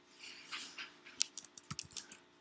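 Rapid, uneven keystrokes on a computer keyboard while coding a React Native app, with soft clicks and a few sharper taps, close and quiet, with no voices.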